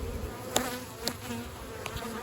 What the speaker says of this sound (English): these bees are starting to get ticked off